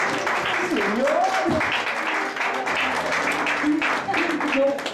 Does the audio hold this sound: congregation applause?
yes